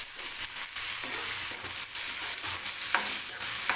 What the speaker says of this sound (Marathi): कांदा व्यवस्थित सुरुवातीला आपल्याला भाजून घ्यायचा आहे तेलामध्ये